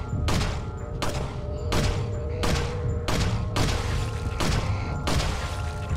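Pistol shots in the Resident Evil 4 video game ring out in a steady series of about eight sharp, evenly spaced cracks, each leaving a short reverberant tail over a low rumbling background.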